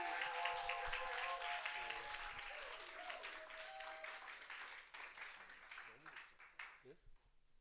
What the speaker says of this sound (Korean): 우리 선교사님 나오실 때 큰 박수로 환영하도록 하겠습니다.